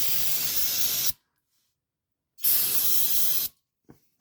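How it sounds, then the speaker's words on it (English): Brake cleaner sprayed over oil drips during an oil change on a 2009 Bobcat 2300, two loud close hissing bursts of about a second each with a silent pause between. "it's a good idea to just spray a little brake cleaner"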